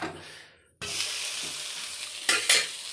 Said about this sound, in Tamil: அதனால் தோசை ஊற்றி சாப்பிட்லான்ட்டு தோசை ஊற்றிட்டுருக்கேன்